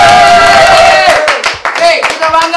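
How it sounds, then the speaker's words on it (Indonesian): Bursts of hand clapping from a studio audience at a Chinese New Year game show, breaking out loud and close after sustained voices and tones, with talk continuing around it. "Tepuk tangan."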